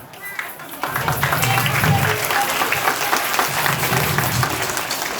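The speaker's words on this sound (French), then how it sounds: "Merci beaucoup, on s'applaudit." Children clapping together after a storytelling session about a frog and other animals, a brisk, lively round of applause that starts after a short pause and keeps going, with voices mixed in.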